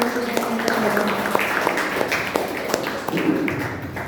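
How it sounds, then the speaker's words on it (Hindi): An audience at a religious seminar claps to welcome a speaker to the stage, with scattered, uneven claps that stand out sharply over a continuous hum of talking voices. "सभी लोग जोरदार तालियों से स्वागत करें"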